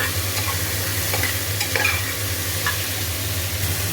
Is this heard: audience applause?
no